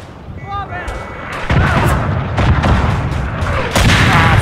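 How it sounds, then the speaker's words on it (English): Artillery shells boom repeatedly in the WWI shooter Verdun on a Flanders map, loud heavy blasts and rumbling impacts following one another over a few seconds amid battlefield noise. "I put artillery on my gas cloud."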